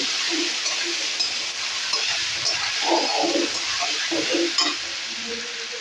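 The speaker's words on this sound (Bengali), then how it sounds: "পনিরটা দিয়ে একসঙ্গে আমি একটু ভেজে নেব" Paneer frying in a pan as it is stirred, a loud, continuous sizzle with scraping stir sounds throughout and no speech.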